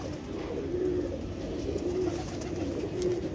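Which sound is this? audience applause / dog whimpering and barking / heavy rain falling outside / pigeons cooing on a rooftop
pigeons cooing on a rooftop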